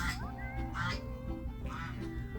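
A goose honks and quacks repeatedly, with loud nasal calls close by over a steady background hum.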